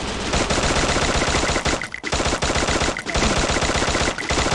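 Rapid, loud automatic gunfire from the video game Free Fire rattles in dense bursts with brief gaps, heard close and without talk.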